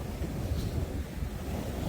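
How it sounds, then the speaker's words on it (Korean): Rough sea waves surging against a breakwater of tetrapods at a cold winter harbor on the Korean coast, a dense continuous roar of surf mixed with wind buffeting, no clear individual breaks. "파도가 좀 많이 치고 있고요"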